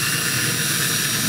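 A drill bores bridge pin holes through the wooden bridge of an octave mandolin, giving a steady, loud whirring whine with a high squeal that runs without a break.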